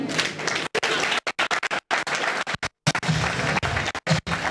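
Applause at a bank's celebration for management and shareholders: a crowd clapping in dense bursts broken by short gaps, fairly close and lively.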